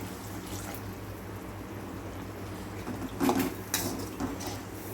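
Water splashes into a metal pot with clinks and clatters of cookware, set against a steady low kitchen hum.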